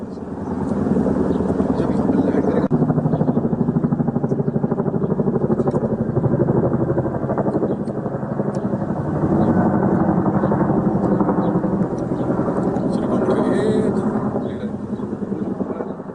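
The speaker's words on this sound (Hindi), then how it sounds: "आसमान में आज अपाचे अटैक हेलीकॉप्टर भी लगातार फ्लाइंग करते नजर आए हैं" An Apache attack helicopter flies overhead with a steady, loud rotor thump and engine drone that holds throughout, swelling slightly at times.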